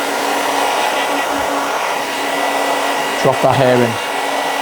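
A hair dryer fitted with a diffuser runs steadily and loudly while drying a man's fringe during a medium-length haircut, its airflow changing pitch briefly near the end, with a short spoken remark over it.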